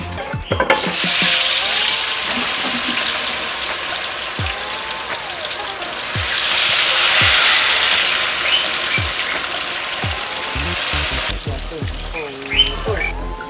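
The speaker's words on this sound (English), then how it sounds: "Now our oil is hot, so I'm about putting our plantain." Plantain slices frying in hot oil for Ghanaian waakye, a loud steady crackling sizzle that swells and fades, with occasional utensil knocks and a brief voice near the end.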